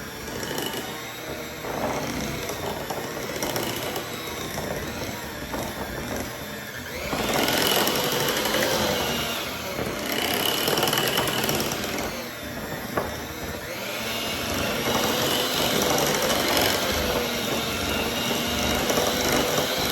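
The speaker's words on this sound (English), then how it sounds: "Okay, so I'm gonna get this blended." Blender whirring steadily through a pumpkin dessert mixture with Cool Whip, a continuous motor drone that rises louder partway through and stays near and dense to the end, with no talking.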